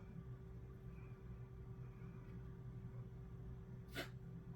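A single short sneeze near the end, sharp and fairly close, over a quiet room with a steady low hum.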